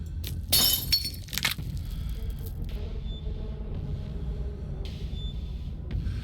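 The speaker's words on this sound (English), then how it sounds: "The window shatters." Window glass shattering in the video game Scarlet Hollow: a loud burst of breaking glass with scattered clinks and a second crash, then a low rumbling ambience with faint tonal chimes.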